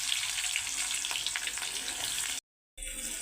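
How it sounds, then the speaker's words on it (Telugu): Onion pieces frying in hot oil with cumin and mustard seeds, a dense, close sizzle with crackling that runs steadily, then cuts to silence briefly before resuming. "ఆయిల్ వేడైంది, ఇందులోకి జీలకర్ర, ఆవాలు వేసేసుకుందాం. ఆవాలు వేగాయండి, ఇందులోకి మనము ఉల్లిపాయ ముక్కలు వేసేసుకుందాం"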